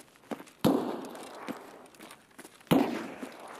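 Two sharp, loud gunshots crack in the video game Escape from Tarkov, about two seconds apart, each ringing out with a short echoing tail over quiet background ambience.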